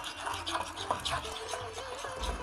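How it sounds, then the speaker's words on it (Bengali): Egg and flour batter is whisked in a bowl, giving quick, rhythmic scraping and tapping strokes at close range, fairly quiet and with no talk. "এইভাবে কিছুক্ষণ মিশিয়ে নেব।"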